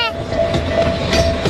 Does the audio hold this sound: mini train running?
yes